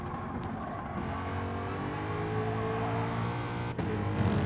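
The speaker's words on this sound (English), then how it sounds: "he's revving it right out" A Super 2 race car at Kyoto Driving Park revs out hard under throttle, a continuous loud engine note held at high revs with a brief dip near the end.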